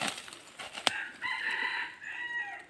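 A red junglefowl rooster crows a short, faint cock-a-doodle-doo outdoors in a rural setting, preceded by a brief sharp click and scattered soft rustling.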